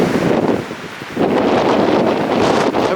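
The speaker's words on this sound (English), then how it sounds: "The wind's still gusting up to 60 or 70 kilometers." Strong wind gusts roar across a snowy cove during a March snowstorm, a steady broadband rush with buffeting against the microphone that dips briefly then surges back, loud and continuous with no voices.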